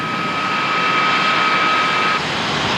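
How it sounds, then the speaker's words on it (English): A road car fitted with a Lightning jet engine gives a loud, steady roaring whoosh, a thick broadband blast with a high whine running through it, continuous and close with no talk. "got bored with his diesel and wondered what would happen if you bolted a lightning jet engine in instead"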